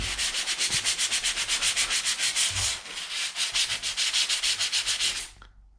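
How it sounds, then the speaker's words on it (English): Light hand sanding of a dried drywall patch around a toilet roll holder fitting, a close, rhythmic run of quick scratchy back-and-forth strokes with a brief pause midway, ending abruptly. "We'll give this a light sand first."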